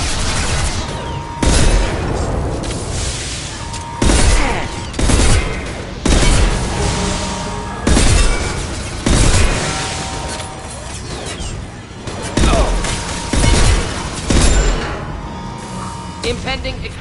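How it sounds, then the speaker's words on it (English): Incineration tech power firing in Mass Effect 2 combat: repeated loud bursts and booms with mechanical clatter, dense weapon fire between impacts. "Deploying incineration tech."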